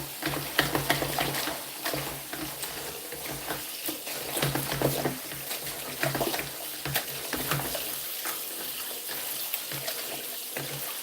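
Running tap water splashes over fresh spinach leaves being washed, a steady rushing flow with intermittent splatter and handling noises, continuous and close.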